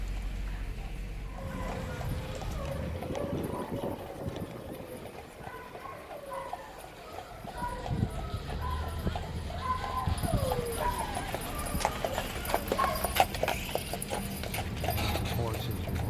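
Horses on a road in Jackson Hole, Wyoming, make a faint, steady clip-clop of hooves under a noisy outdoor background, with people talking throughout.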